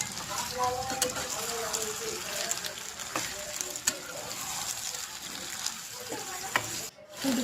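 Chicken pieces frying in a pan, a dense continuous sizzle with occasional stirring knocks and scrapes, steady and close throughout, with a brief drop near the end.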